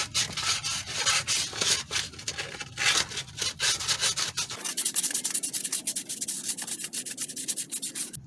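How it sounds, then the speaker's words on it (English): Sandpaper rubs back and forth in steady, rhythmic strokes, cleaning a rusty axle bearing bracket on a Toyota Sienna during CV axle replacement, close and fairly loud with no talking. "I'm gonna be cleaning here inside the bracket right there with a sandpaper."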